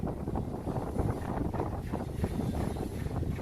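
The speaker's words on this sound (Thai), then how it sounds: "นี่ลมแรง" Strong wind buffets the microphone outdoors, a steady, dense rumbling roar with gusty fluctuations lasting a few seconds, no voices over it.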